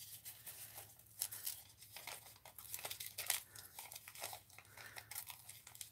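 Paper crinkles and scissors snip quietly as a printed word phrase is fussy cut out for an art journal page, a soft close run of irregular rustles and small cuts.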